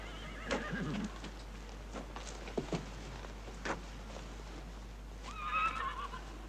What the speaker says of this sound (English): Fine-looking horse, Ben.